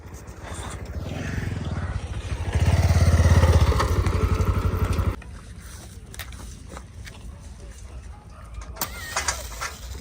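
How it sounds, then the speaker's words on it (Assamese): A motorbike arrives at an outdoor music video shoot, its engine droning loudly nearby for a few seconds before cutting out. Voices and birdsong follow. "কেনেকৈ বাইক চলাই আহিলা"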